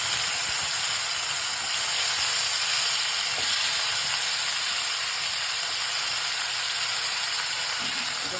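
Soaked green peas frying in a pan over lowered gas, giving a dense, even hiss that holds steady and close the whole time, with no talking.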